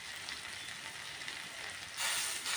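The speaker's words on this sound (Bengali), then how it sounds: "এখন মশলাটাকে ভালো করে কষিয়ে নেব" Spice paste with chili powder and turmeric sizzles in a pan, a dense continuous hiss that swells louder and brighter near the end as the paste is fried.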